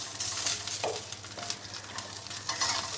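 Crushed dried red chillies sauté in a pan with a steady soft sizzle, punctuated by the scrape and clatter of a spatula stirring, close and fairly quiet.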